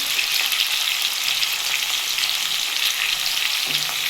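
Ginger paste frying in a pan during a Bengali ridge gourd fritter curry, giving a loud, steady, dense sizzle with light stirring scrapes throughout and no talk.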